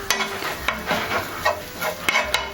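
Grated coconut being lightly roasted in a pan for a Kerala pumpkin sweet, with a spoon stirring and scraping in regular strokes over a soft, steady sizzle.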